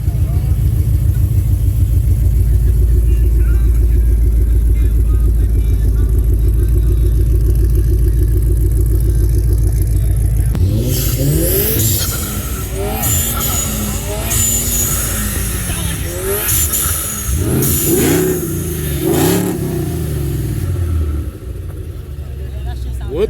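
Ford Mustang cruising past at an evening car meet, its engine rumbling in from the distance and growing louder midway with revs, under crowd noise and nearby talk.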